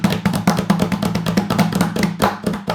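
Hands tapping on a surface in quick, uneven beats, close and fairly loud, with a low steady hum running underneath.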